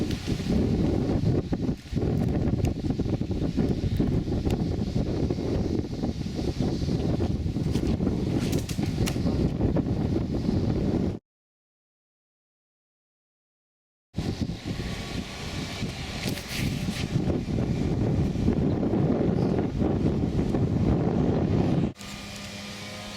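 Steady wind roars across an open park disc golf course, heavy broadband buffeting against the microphone with rustling, broken by a few seconds of silence before the gusting resumes.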